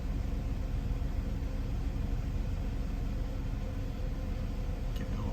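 1989 Mercedes-Benz 560 SEC engine idling after a cold start, a steady, even, dense rumble heard up close without change through the whole stretch.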